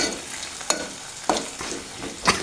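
Turmeric is stirred into onions frying in a pan. Three or four distinct spatula scrapes stand out over a soft, constant sizzle, and no one speaks.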